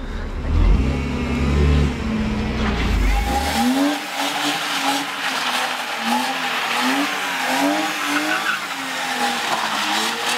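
A scrapyard car's engine revs hard while tires squeal in repeated rising and falling whines as it drifts in circles, loud and continuous after a rumbling start.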